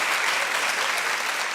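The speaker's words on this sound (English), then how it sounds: "clap if you agree with me" A studio audience at a talk show breaks into brief, dense applause, a full steady wash of clapping that stays loud for the whole moment.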